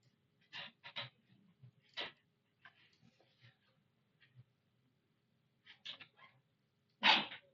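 A single sneeze bursts out sharply in a quiet lecture room, surrounded by faint scattered small noises and soft breaths.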